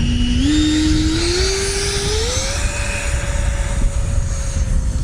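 A Freewing F/A-18C Blue Angels 90mm electric ducted-fan RC jet spooling up at open throttle, a loud steady whine rising in pitch in steps, then holding high and constant, with no talk.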